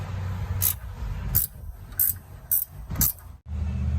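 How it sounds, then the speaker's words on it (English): Ratchet wrench backing bolts off a 2004 Mercury Grand Marquis during fuel tank sending unit replacement: five quick, bright clicking bursts spaced about half a second apart, close up over a low engine-like hum. "break these loose, take them off, just ratchet them out, and they'll come out"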